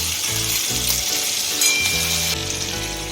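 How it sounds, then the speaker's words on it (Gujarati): Garlic ginger paste frying in hot oil for veg hakka noodles, a loud continuous sizzle close up with a few stirring scrapes and bursts of sputter, no talking. "હવે તેલ બરાબર ગરમ થઈ ગયું છે એની અંદર આપણે જે લસણ આદુ ને પેસ્ટ છે એ આપણે એડ કરીશું"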